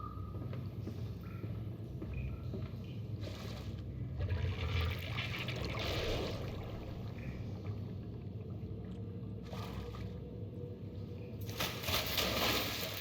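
Water sloshing and trickling through flooded tunnels in Amnesia: A Machine For Pigs, a faint continuous rushing wash with occasional louder surges, no voices.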